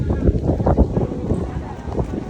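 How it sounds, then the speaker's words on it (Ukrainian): Wind buffets a camera microphone on a sandy beach at a Red Sea resort hotel in Sharm el-Sheikh, a loud continuous low rumble with gusty surges throughout. "Я думаю, що ви всі чуєте звуки вітру, які відображаються в камері"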